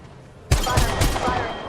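Rapid gunfire from a shooter video game played on a Poco X3 Pro phone, a loud burst of several quick shots starting abruptly after a short quiet lead-in.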